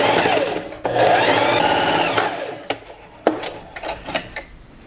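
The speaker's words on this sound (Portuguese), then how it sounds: "Coloco um alfinete e levo na máquina para costurar." A sewing machine stitching fabric for a pet bandana collar gives a steady, close mechanical whir with rapid needle clatter, slowing and stopping. A few sharp clicks of handling follow.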